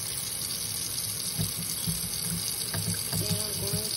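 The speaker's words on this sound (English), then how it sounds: "So I'm gonna run the water." Tap water runs steadily into a sink for hand washing, a continuous close-up splash with a few brief clatters near the end.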